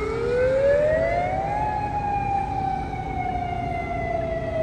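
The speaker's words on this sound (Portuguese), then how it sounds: "Tem um vídeo que está mostrando uma sirene de evacuação obrigatória sendo disparada ontem em Reddal Shores" Mandatory evacuation siren in a small US town, a loud continuous wail rising in pitch and then holding a long, slowly falling tone, heard alone.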